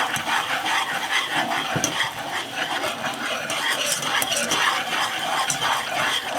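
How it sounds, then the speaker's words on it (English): Slow whisking of flour into simmering broth for Thanksgiving gravy, a steady close scraping and swishing with faint sizzle running continuously throughout. "I'm just going to give that a slow whisk as I add the flour"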